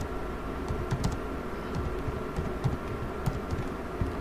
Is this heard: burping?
no